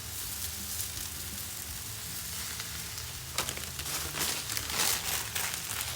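Catfish stuffed with crawfish sizzles on a 22-inch Blackstone griddle, giving a close, continuous hiss of frying with sharper crackling bursts that build in the second half and no voices.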